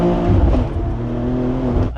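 A BMW M2 engine revving hard while driving, a loud, close, rising mechanical growl heard from inside the car that holds steady briefly before easing off at the end.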